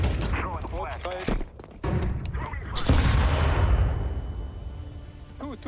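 A Counter-Strike flashbang grenade goes off partway through as a loud broadband blast that decays slowly, with in-game gunfire thumps and voices talking before and around it.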